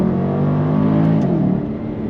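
A Jaguar XK 5.0 (X150) accelerating in manual mode, its engine note rising in a strong, close, steady drone before a brief dip as it shifts and pulls again.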